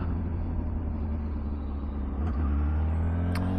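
A 2024 Honda CBR600RR 600cc supersport engine idling after warming up in sub-zero cold, a steady low rumble that stays even and close, with a couple of faint clicks.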